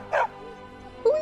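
A stray dog in Skyrim lets out two short, close yips or barks separated by a brief pause, with a soft whimpering tone between them.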